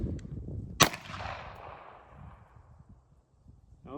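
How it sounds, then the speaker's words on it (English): A single sharp crack from a .32 ACP Spanish Ruby pistol firing 71-grain rounds at a French F1 steel helmet, with a long fading echo rolling out afterward over a quiet outdoor background. "now we're moving on to a 32 ACP. This is 71 grain out of a French Spanish Ruby."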